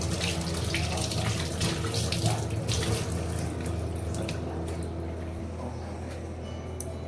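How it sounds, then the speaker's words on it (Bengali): Tap water runs steadily into a kitchen sink while dishes are scrubbed, with small clinks and splashes over the continuous close-up gush. "বেসিনে একটু বাসন পড়ে রয়েছে, এগুলোকে মাজতে হবে।"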